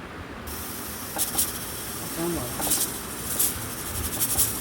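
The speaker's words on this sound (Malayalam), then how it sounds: "ഇനി കുക്കർ അടച്ച് 1-2 വിസിൽ കേൾപ്പിക്കുക." A pressure cooker holding sambar with lentils and green chilies lets off several short, sharp bursts of steam hiss over a constant background whoosh.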